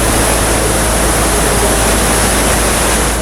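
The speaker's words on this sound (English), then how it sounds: "Has so many amazing waterfalls." An Icelandic waterfall roaring as a loud, steady broadband wash of falling water, close and continuous with no voices heard.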